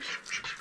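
Domestic ducks kept in snow quack in a quick run of three or four close, nasal calls, near and fairly loud with nothing else heard.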